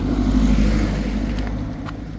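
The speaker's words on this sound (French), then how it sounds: "Une voiture qui arrive." A car approaches along a village street near a church during an evening walk, its steady low engine rumble loud and close, easing slightly as it nears, with no talk over it.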